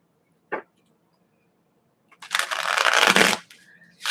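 A single quick tap, then a close, crisp burst of tarot cards being shuffled for about a second.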